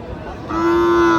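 A Sahiwal-Gir cross bull at a cattle market lets out a single loud, sustained low moo that starts partway in and holds steady to the end, over a murmur of market background noise.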